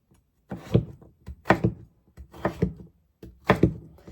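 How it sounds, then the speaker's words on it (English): Knife dicing potatoes on a cutting board, four distinct clusters of dull chopping thunks about one second apart, close and clear with nothing else heard. "So I'm dicing just like before, trying to keep everything even so it cooks the same way."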